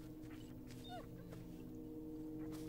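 A dog in the Blair Witch video game lets out a few faint, high whimpers over a steady low background hum, quiet and brief.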